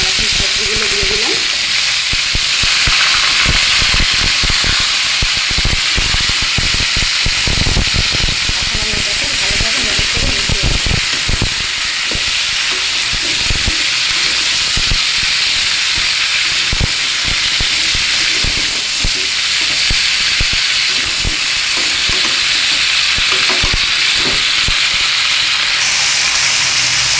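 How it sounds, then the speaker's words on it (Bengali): Loud, continuous sizzling of mixed vegetables such as stem greens and long beans dropped into hot oil with cumin and mustard seeds, a dense hiss with crackling pops and stirring scrapes throughout, close up. "তেলের ভিতরে আমি জিরে আর সরষে দিয়ে নিয়েছি। এখন সবজিগুলো দিয়ে দিলাম।"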